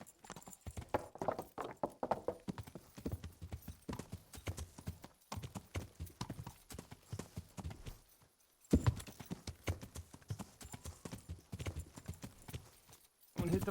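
Horse hooves clip-clopping at a steady trot in the medieval video game Kingdom Come: Deliverance, a continuous rhythmic patter of hoofbeats with brief breaks, fairly close and quiet.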